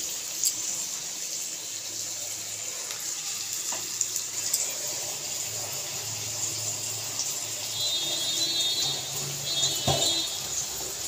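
Dried fish soaked in hot water is washed and scrubbed under running water, giving a steady, close hiss of flowing water with faint scrubbing rubs and occasional small knocks throughout.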